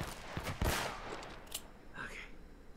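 Short bursts of gunfire in the PS4 version of Uncharted: Drake's Fortune, a few sharp shots and a quick volley at moderate loudness, with a game voice briefly audible.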